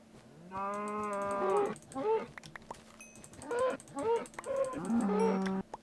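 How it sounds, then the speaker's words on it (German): Cattle in the Minecraft video game moo several times in a row, long drawn-out lowing calls with a nasal, synthetic tone, fairly loud and close with brief gaps between them. "Noch mehr Kühe."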